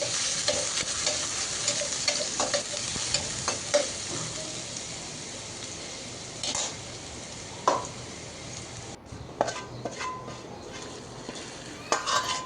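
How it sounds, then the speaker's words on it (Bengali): Chopped garlic, dried chili and onion frying in hot oil for dal tempering, a steady crackling sizzle with occasional clinks and scrapes of a spoon stirring in the pan. "তো রসুন কুচি আর শুকনো মরিচ দিলাম আর একটু পেঁয়াজ দিয়ে দিব।"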